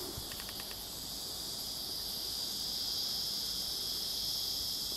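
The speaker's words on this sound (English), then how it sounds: "Listen to the cicadas." A steady, high-pitched drone of cicadas fills the air continuously in a paddock, faint and distant, with no other sounds standing out.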